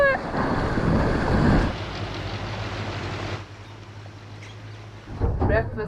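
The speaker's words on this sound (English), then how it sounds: "There's a little bit of wind around this morning" Wind at sea aboard a boat near a remote sand cay, a rushing, buffeting roar against the microphone with sloshing water and a low engine hum, easing off in the middle and gusting strongly again at the end.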